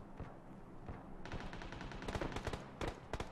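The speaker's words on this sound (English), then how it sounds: "People are shooting from this direction." Gunfire in PUBG Mobile, rapid bursts of automatic weapon shots, sharp cracks coming in quick runs that grow denser and louder toward the end, with no talking.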